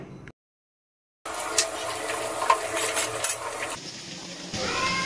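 Cut raw mango is dropped into a pan where fried potatoes sizzle, and after a brief silence a steady frying hiss runs on with occasional clinks of a spoon.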